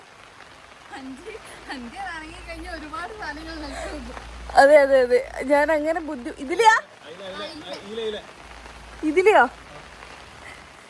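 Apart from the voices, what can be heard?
rain falling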